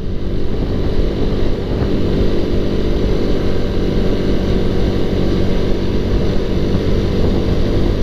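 A vehicle accelerates at full throttle along a road in Tanjung Pinang, a loud, steady engine roar with dense low rumble and wind noise that continues unbroken and close for the whole stretch.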